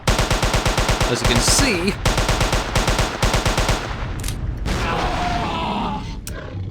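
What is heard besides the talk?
SMG gunfire in video game Jurassic Park Hunter Legends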